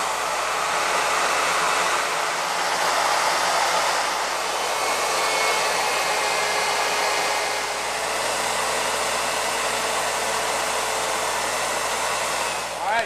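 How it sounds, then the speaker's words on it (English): A handheld wood router cuts away glued-on wooden cube pieces, a loud steady high-pitched whine that runs continuously with slight dips as the bit moves through the wood. "Then we're gonna take our router and route these out."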